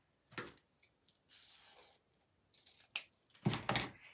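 Scissors snip through ribbon in several quiet, close cuts with crisp rasping bursts and short pauses between them, with no voices.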